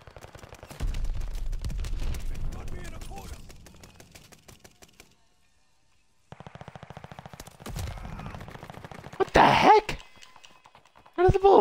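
Rapid bursts of video game shooter gunfire crackle in repeated volleys, loud and close, with a brief quiet gap midway and sharp bright shots near the end, while a voice talks over parts.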